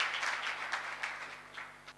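Scattered clapping welcomes a poetry recitation on dead flies, fairly faint and thinning out over two seconds, heard alone without talk.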